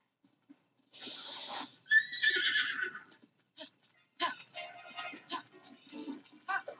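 In Zelda: Breath of the Wild, a horse gives a loud neigh followed by snorts and a run of rhythmic hoof clatter from a gallop, moderately close with no talk.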